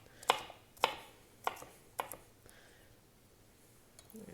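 A knife chops through bell pepper on a cutting board for red lentil soup: four crisp, evenly spaced strikes close by, followed by quieter handling sounds.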